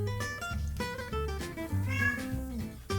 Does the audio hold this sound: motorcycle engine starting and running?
no